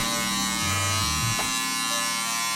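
Electric hair clippers smoothing the transition of a skin fade buzz steadily up close, a continuous motor hum whose pitch dips briefly midway as the blades meet hair.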